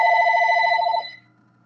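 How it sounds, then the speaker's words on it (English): A telephone rings with a bright, trilling electronic bell that sounds close and loud for about a second, then cuts off and fades. "And I'm just going to ignore that phone call."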